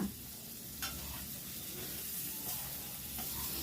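Chopped tomato goes into a hot frying pan with onions and fries, giving a soft, steady sizzle and hiss. A few faint stirring scrapes sound against the pan, with no talking.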